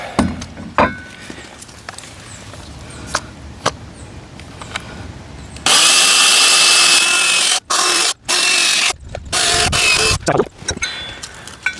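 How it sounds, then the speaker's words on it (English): Quiet handling and taps, then a power drill whirs loudly and close in several bursts with brief pauses as it bores bolt holes for mounting a wall hose reel. "So now I can drill in."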